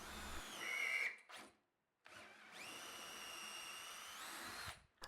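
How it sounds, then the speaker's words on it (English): Power drill boring pilot holes through a wooden table top into the legs of a wood and steel coffee table. Two close, loud whirring runs rise in pitch as the drill speeds up, with a brief pause between. "get a couple of pilot holes drilled through the top of each leg into the table"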